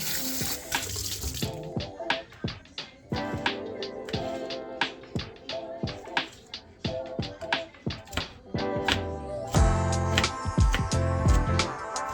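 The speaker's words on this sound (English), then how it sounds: "So I'm gonna start off by rinsing my shrimp and letting all of the juices drain." Tap water runs steadily into a kitchen sink as shrimp with tails on are rinsed, a close continuous splash broken by clattering knocks of handling in the basin.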